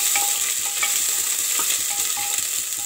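Mixed vegetable curry is stirred in a pan, with a continuous bright sizzle and repeated soft scraping strokes of a spoon at an even pace, close and fairly loud.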